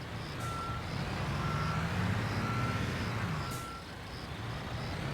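Truck reversing alarm in the Construction Simulator game: a steady series of evenly spaced electronic beeps repeating over a low diesel engine rumble, with a brief hiss near the middle.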